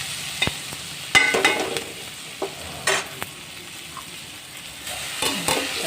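Tomatoes fry in a pan and are stirred, with a steady low sizzle beneath several sharp scraping and clattering stirs, close by and with no talk.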